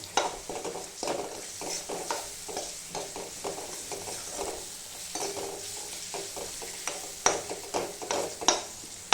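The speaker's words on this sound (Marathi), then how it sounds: "तो टाकायचा तो तेलामध्ये चांगला फ्राय होऊ द्यायचा" Steady hot-oil frying in a pan while cooking a hyacinth bean pod vegetable dish, close sizzling broken by repeated scraping stirs of a spoon against the pan, with no talking.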